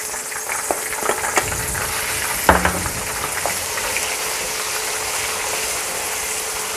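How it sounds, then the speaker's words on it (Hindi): One large chopped onion fries in a pan with whole cumin seeds, giving a steady, close sizzling hiss with a few small pops and a brief clink of stirring midway. "हमारी प्याज जब तक फ्राई होती है"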